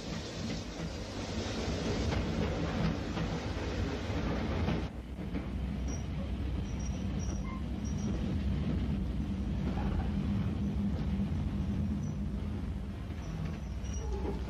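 A steam train rumbles steadily for a sustained stretch as it arrives at Moat Lane Junction in Wales, with faint clattering and occasional high squeals from the wheels, heard from a moderate distance.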